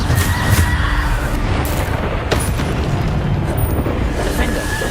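Bombarda explosion spells burst in Hogwarts Legacy amid a dense, continuous roar of magical combat, with booming blasts layered over steady rumbling noise.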